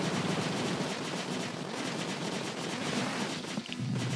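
Rapid, continuous weapon fire in the video game Cave Story+, a dense, steady barrage of small shots at even loudness running the whole time, with no talking.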